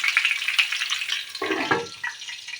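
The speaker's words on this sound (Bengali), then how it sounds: "আস্তে আস্তে এরকম ফ্রাই হবে বন্ধুরা, এটা ফ্রাই হোক" Eggplant fries in a pan with a bright, continuous sizzle and crackle, joined midway by a short burst of lower scraping or bubbling before settling back to steady frying.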